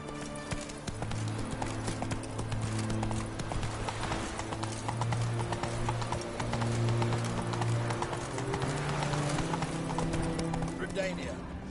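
Roach the horse trots in Witcher 3 Wild Hunt, steady clip-clop hoofbeats continuing at moderate loudness under game music and a voice talking.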